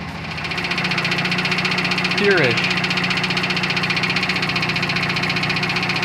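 A car engine runs steadily with a rapid knocking rattle throughout, coming from the front differential of a 400hp Subaru Outback XT, while someone speaks briefly close by.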